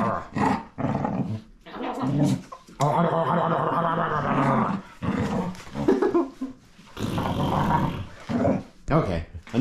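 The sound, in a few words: dog growling playfully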